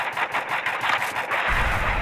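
Rapid bursts of video game gunfire, sharp repeated shots in quick succession, ending in a heavier, louder volley.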